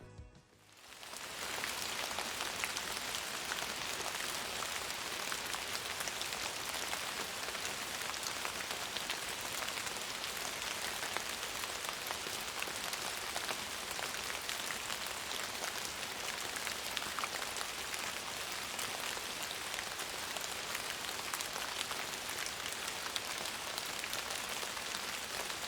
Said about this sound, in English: Think about this as we make it rain.